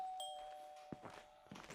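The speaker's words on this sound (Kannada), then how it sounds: "ಈಗ ಮತ್ತೆ ಡೋರ್ ಬೆಲ್ ಹೊಡಿ" A doorbell at a house gate chimes with a clear sustained tone, followed by a few soft thumps like footsteps, all fairly quiet with no talking.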